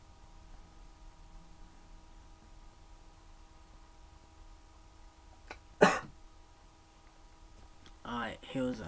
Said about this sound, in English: sorry for coughing the mic.